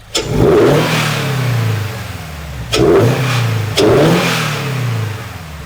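A Toyota GR86 with a modified exhaust is revved hard three times, each blip rising to a loud roar and falling back, heard up close in a garage-like setting.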